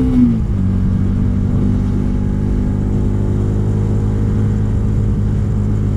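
Motorcycles riding on the road, a family group travelling together, give a steady low engine drone and rumble close by, with a brief rising rev at the start and no talk.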